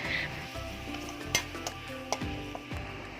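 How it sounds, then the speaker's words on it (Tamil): Ginger garlic paste sizzling and frying in a pan, with a spoon stirring and scraping against the metal a few times, close and steady. "இதையும் சேர்த்துட்டு நல்லா இந்த பச்சை வாசனைலாம் போகிற அளவுக்கு நல்லா வதக்கி விட்டுருங்க"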